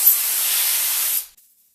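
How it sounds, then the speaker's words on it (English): Compressed air from a standard nozzle on an air compressor hose sprays onto longboard bearings in one loud, close, steady hiss lasting just over a second, then cuts off abruptly into silence. "I have this air compressor hose with just a standard nozzle on the top, and I like to just spray my bearings."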